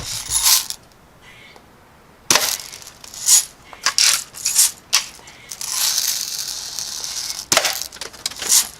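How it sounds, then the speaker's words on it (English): Several sharp bursts of Daisy Red Ryder BB gun shots striking recycling targets, irregularly spaced, with rattling and clattering impacts and short pauses between them. "we'll shoot these first 3 with the Red Ryder, see how they do"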